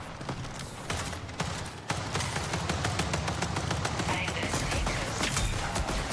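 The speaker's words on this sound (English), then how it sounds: "In gunfights, the gunshots and equipment sounds reverberate off the walls." Rapid gunfire in the Marathon video game, dense bursts of shots reverberating off interior walls, loud and continuous throughout.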